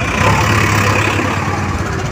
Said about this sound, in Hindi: इसी रास्ते से हम लोग बाइक से चल रहे हैं